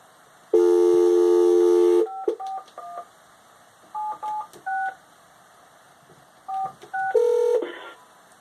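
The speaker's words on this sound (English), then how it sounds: "I'm going to dial his phone number." A landline phone gives a long dial tone, then a string of short keypad DTMF beeps in quick bursts with pauses between them, ending in another tone, clear and close with no talking.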